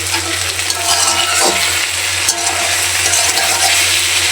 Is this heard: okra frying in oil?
yes